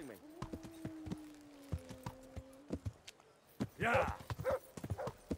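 Horse hooves clip-clopping in the video game Kingdom Come: Deliverance, a run of distinct hoofbeats at a quick rhythm with a tonal sound early on and a brief whinny-like burst, under a player's occasional talk.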